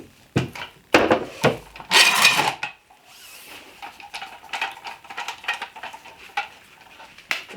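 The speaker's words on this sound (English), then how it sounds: "I'm going to take them out of the clamps and I'm going to just give them a nice light sand" Short bursts of rubbing and scraping as glued-up wood pieces taken out of clamps get a light hand sanding, close and fairly loud at first, then softer, quicker strokes.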